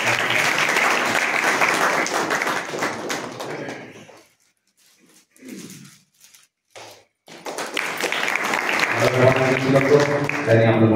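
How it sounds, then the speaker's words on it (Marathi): Audience applause at a foundation-stone ceremony for a new building rises loudly, breaks off into near silence with a few scattered sounds and a brief voice, then swells again alongside music-like tones. "कदम सरांसाठी का टाळ्या व्हायला हरकत नाही"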